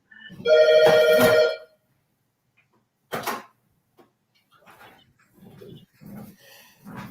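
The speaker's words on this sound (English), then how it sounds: "It's my home phone that never rings." A home landline phone rings in one loud burst of warbling trills, followed by silence and a short noise, then faint scattered sounds toward the end.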